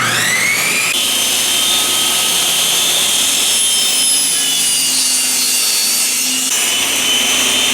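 A table saw set for a 10-degree miter cut runs through wood, its loud high whine holding steady and shifting in pitch as the blade bites, with no talking over it.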